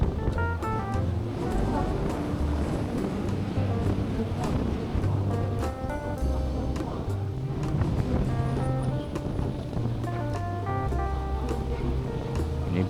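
Strong wind blows at Kuta Beach, Bali after a storm, a constant roar and buffeting against the microphone, with surf and a muffled voice underneath.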